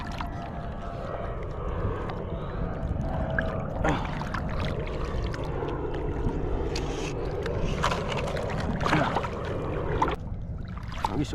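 Waves slap and wash against a small boat on the sea off Palawan during ultralight casting, a steady splashing and sloshing with irregular knocks, heard alone at moderate level.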